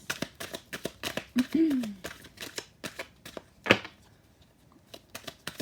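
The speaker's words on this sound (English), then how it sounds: "Let's give it another little shuffle in here." Tarot cards get a quick shuffle: a run of crisp, rhythmic riffling clicks across several seconds, close to the mic, with a brief voice breaking in partway through.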